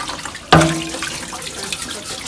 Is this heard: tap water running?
yes